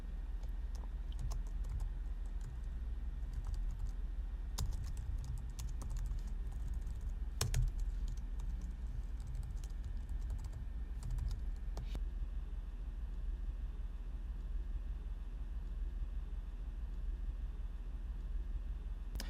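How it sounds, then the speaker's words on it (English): Credit card details are typed on a computer keyboard, with soft irregular key clicks and a few sharper taps tapping away steadily over a faint background hum, no voices. "then you just punch in the credit card information"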